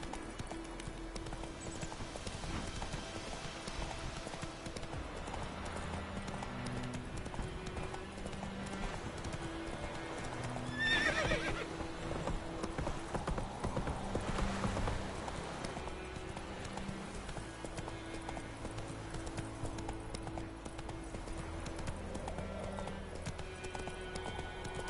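Hooves of Roach, the horse in The Witcher 3 video game, clip-clop at a steady trot throughout, with a brief snort or whinny near the middle, set against a continuous game music bed.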